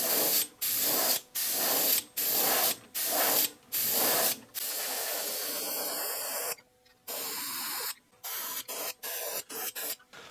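Red Testors paint sprays onto a wooden fishing lure in a series of short, even hissing bursts, then one longer spray, then several quick puffs close by.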